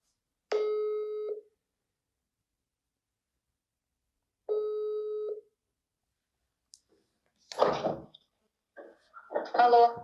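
An outgoing telephone call sounds two clear ringback tones, each about a second long and separated by a few seconds of silence, before a faint click and a voice picking up and talking.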